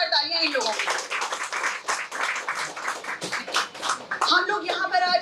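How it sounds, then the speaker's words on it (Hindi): Audience applause at an International Women's Day 2021 event, a dense, steady wash of clapping lasting several seconds, with a voice speaking briefly before and after it. "तो एक बार जोरदार तालियां इन लोगों को"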